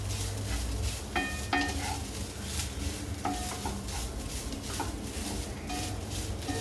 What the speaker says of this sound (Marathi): आपल्याला हे थोडं छान परतून घ्यायचं